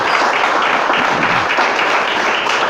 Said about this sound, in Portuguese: Quem crê aí pode aplaudir o Senhor